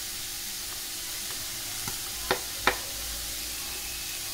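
Carrot and cabbage stir-frying in a pan for veg momo filling, a constant sizzle with a few quick scrapes and two sharper clicks of a spatula.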